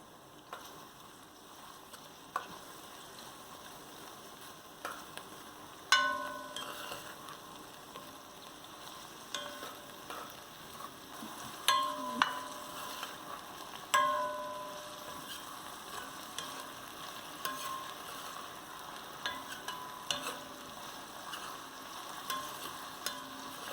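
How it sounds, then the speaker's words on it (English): Red and green bell peppers and garlic sauté over a low flame, with a soft, quiet sizzle under irregular scrapes and taps of a spoon stirring in the pot, no voices. "I just want all this to saute over a low flame until they become translucent"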